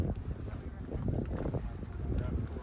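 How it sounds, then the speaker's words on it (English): Wind buffets the microphone in a continuous low rumble while climbing up to the palace at Herodium, gusting steadily throughout with no pauses. "And it's kind of windy."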